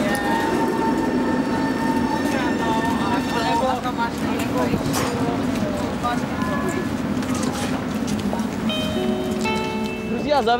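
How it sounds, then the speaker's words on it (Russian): A narrow tram passes through the streets of Vienna, Austria, making a loud, steady rumble with metallic wheel squeals and ringing tones throughout, and nobody talks. "этот венский трамвайчик точно отличается от всех остальных"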